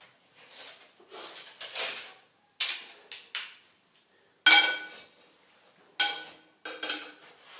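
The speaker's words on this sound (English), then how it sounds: "to mix my salad, to toss it" Forks clink and scrape in bursts while tossing a cabbage, carrot, corn and dandelion salad, with short irregular strokes and pauses between them, close and fairly quiet.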